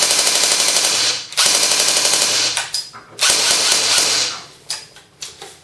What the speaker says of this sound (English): So this is on full auto.